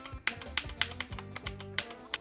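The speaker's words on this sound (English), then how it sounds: "Yeah, my keyboard's working, Alt-R." Computer keyboard keys are pressed repeatedly to trigger an Alt-R hotkey, a quick run of close, crisp clicking taps in an uneven rhythm with no voices.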